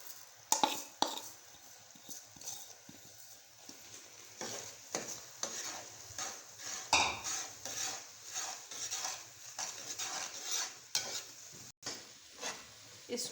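Sesame seeds are stirred into melted jaggery in a pan, with a spoon scraping and rubbing the pan in uneven, continuous strokes and a soft sizzle underneath, close and fairly quiet, with no talking.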